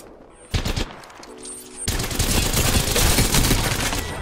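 Rapid automatic gunfire from Apex Legends, loud bursts of repeated shots that start abruptly after a brief quiet opening and then sustain as a dense, continuous volley.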